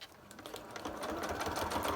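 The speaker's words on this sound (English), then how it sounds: "I'm not great with my sewing machine." A home sewing machine stitches envelopes made from plastic cereal liners, a fast, close, rattling whir of the needle that speeds up and holds steady.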